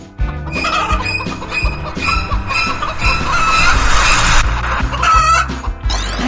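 Chickens on a farm cluck steadily and close by, a dense overlapping chorus of hens with a rooster's crow rising among them, continuous for about six seconds with no talking.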